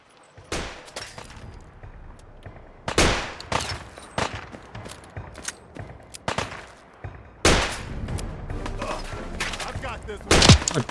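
Single gunshots from a rifle in Fallout 4, loud, sharp reports spaced irregularly across the stretch, with some heavier thuds and quieter game noise between them.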